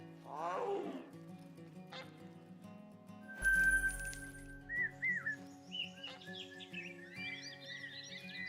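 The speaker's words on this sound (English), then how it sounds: "Sounded like a tiger." A deep roar like a tiger's bursts out in a wild outdoor setting by a river, loud and close for a moment, followed by high chirping bird and frog calls and faint talk.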